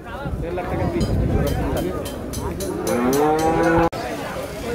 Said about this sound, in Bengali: জোড়া আসছে, জোড়া জোড়া গরু।